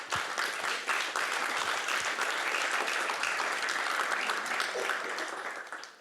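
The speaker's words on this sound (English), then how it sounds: "perhaps we give a round of applause, just to give them a warm welcome." A warm round of applause from a forum audience welcoming speakers on art and the environment, clapping starting abruptly, holding thick and steady, then fading at the close.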